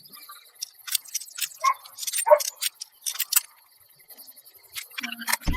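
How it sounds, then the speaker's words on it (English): Dog barking in short sharp bursts scattered through a room while someone plays Fallout: New Vegas, mixed with light jangling and clicking sounds, fairly close and moderately loud. "I really apologize about the barking."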